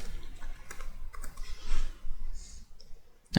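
Computer mouse and keyboard clicks, a run of light close taps and clicks separated by short pauses, with a sharper burst at the end.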